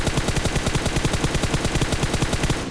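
Rapid automatic gunfire rattles nonstop in PUBG New State during a kill, a loud, evenly paced burst of shots that runs close and unbroken the whole time with no talking over it.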